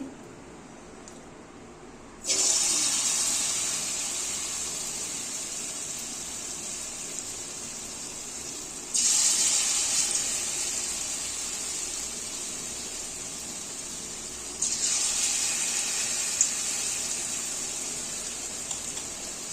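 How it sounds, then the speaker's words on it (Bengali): Bottle gourd fritters (bora) slid into hot oil, each drop setting off a loud, steady hiss of frying that swells sharply three times and keeps sizzling in between, close by with no talk. "এখন আমি বড়া ভাজবো এটা দিয়ে।"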